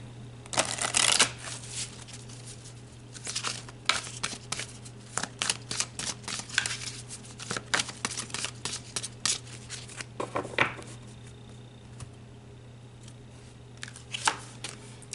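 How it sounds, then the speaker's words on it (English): Oracle cards being shuffled to pull another card, with bursts of riffling and sliding card sounds that come and go over a steady low hum, close and alone with no voices. "So let's pull another card about the 3D."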